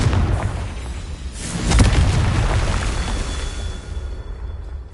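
A Confringo fire-blast spell erupts in Hogwarts Legacy with a deep, heavy boom that swells and then rumbles away over a few seconds, close and loud, with no talking over it.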